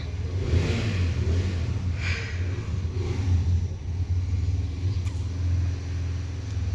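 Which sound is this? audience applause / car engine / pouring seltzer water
car engine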